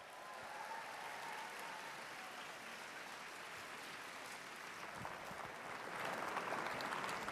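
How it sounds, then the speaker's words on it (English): An audience at a Politicon political panel claps in steady, sustained applause, fairly distant and diffuse, swelling slightly toward the end. "Give him a round of applause."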